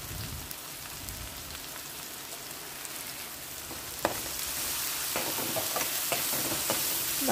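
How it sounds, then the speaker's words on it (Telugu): Onions sizzle and fry steadily in a pan with salt, turmeric and asafoetida for a banana flower curry, a continuous close hiss with occasional sharper crackles and stirring clicks. "బాగా ఆనియన్స్ బాగా వేగేంత వరకు వేయించుకుందామండి"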